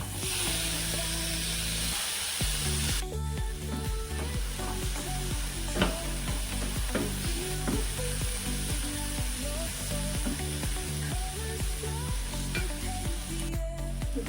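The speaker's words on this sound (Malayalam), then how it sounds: "ഇനി നന്നായി വഴറ്റുക മസാല മൂത്ത മണം തരുന്നുണ്ട്" Masala with pepper powder sautéing in a hot pan, a steady loud sizzle with stirring scrapes and clinks throughout, close up and without talk.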